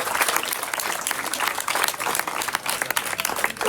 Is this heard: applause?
yes